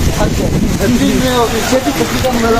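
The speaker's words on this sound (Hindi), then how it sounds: "अचानक बारिश हो गई" Sudden rain falls outdoors, a dense steady hiss mixed with wind rumble that runs continuously beneath people talking.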